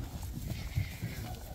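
Foals and young horses brought in from Abakan move about nearby, their hooves clip-clopping unevenly over a steady rumble of background noise.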